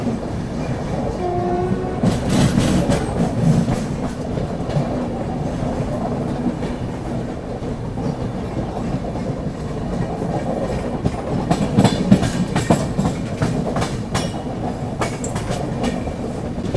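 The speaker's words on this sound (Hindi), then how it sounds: "यहाँ पर अपनी राजधानी एक्सप्रेस पहुँचने वाली है अभी ग्वालियर जंक्शन रेलवे स्टेशन पर" The Rajdhani Express passenger train rumbles past on the rails at Gwalior Junction with rhythmic clickety-clack and a horn sounding, loud and steady throughout.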